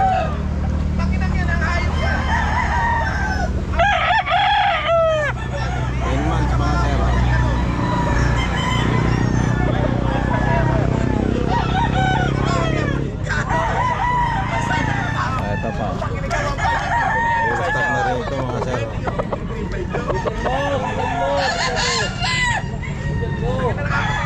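Many roosters crow and cluck at a busy pet market in Santa Maria, overlapping calls from near and far over continuous crowd noise and a vendor speaking.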